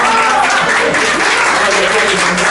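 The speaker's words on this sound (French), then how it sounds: "Je demande aux femmes d'applaudir." A church congregation at a Sunday service applauds, a dense, steady wash of many hands clapping close by that fills the whole stretch without pause.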